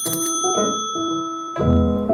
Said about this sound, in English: If you ring the jackpot bell, you get a lot.